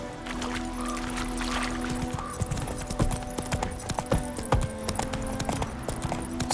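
The horse Roach clip-clops along at a steady gallop in The Witcher 3, with rhythmic, fairly close hoofbeats over a constant low rumble.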